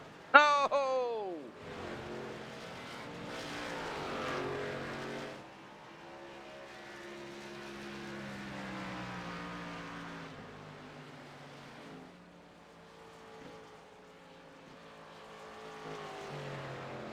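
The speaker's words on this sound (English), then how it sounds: "Hopefully everybody can hear me and hear the car sounds." Race cars circle a track, with a close engine roar sweeping down in pitch early on, then a sustained mixed drone of engines at varying distance, fairly quiet throughout.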